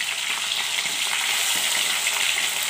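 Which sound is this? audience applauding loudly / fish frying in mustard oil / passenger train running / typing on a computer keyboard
fish frying in mustard oil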